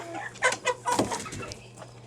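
Backyard chickens clucking as they are herded into a coop at evening, a close cluster of short, busy clucks and squawks over about two seconds, with no talking.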